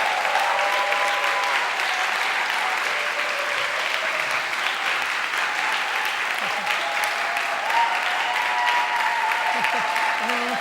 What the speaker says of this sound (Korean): 우리 최 목사님을 환영하는 마음으로 뜨겁게 박수 한 번 보내도록 하겠습니다